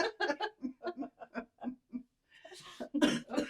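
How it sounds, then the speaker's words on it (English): A person coughs in a quick rhythmic run of about a dozen short bursts, then breaks into louder rougher coughing mixed with laughter, close and clear. "I coughed."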